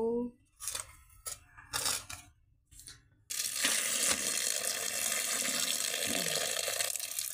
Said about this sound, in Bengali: কুলটা একটু ধুয়ে নিব।